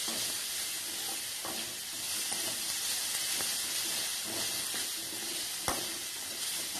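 Onions with ginger garlic paste sauté in a pan for a squid thokku, making a faint, even sizzling hiss with occasional soft stirring scrapes and one sharp tap near the end.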